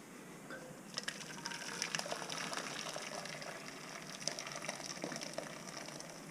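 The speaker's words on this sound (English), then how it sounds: "let's get some hot water in the pan" Hot water runs into a cooking pan with a soft, continuous gushing splash that stays fairly quiet and close.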